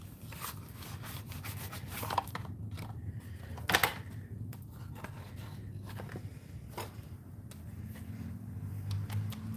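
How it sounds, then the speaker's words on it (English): A tarot deck being shuffled by hand, soft quiet rubbing and riffling of cards with scattered light snaps and taps, close up and continuous with no talking. "So I'll shuffle, warm up the cards for you guys."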